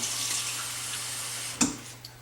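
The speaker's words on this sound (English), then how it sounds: "we're going to take about 2 cups of water and pour it underneath the turkey" About two cups of water pour underneath a turkey in a roasting pan, a soft continuous splashing stream with a brief clatter near the end.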